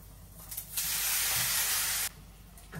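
Radish pieces hitting hot oil seasoned with dried chilli, lentil wadi and black cumin, a sudden loud, dense sizzle lasting over a second before dropping back to a quieter crackle, close and with no talking.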